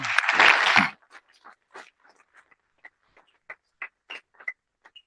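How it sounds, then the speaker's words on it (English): Audience applause for a youth pitch competition finalist at a World Bank Group youth summit: a dense burst of clapping for about a second, then sparse, scattered single claps trailing off. "congratulations and a round of applause for him"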